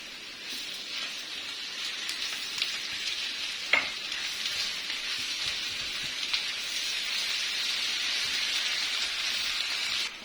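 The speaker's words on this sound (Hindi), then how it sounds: "इसमें मैं ये लहसुन अदरक का पेस्ट डाल दूंगी।" A tablespoon of garlic ginger paste frying in a hot pan gives a steady, close hiss and crackle of sizzling oil that holds evenly throughout, with a faint scrape or stir midway.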